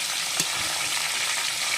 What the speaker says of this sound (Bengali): মাছের মাথা তো তেল থেকে ঢেকে দিয়েছিলাম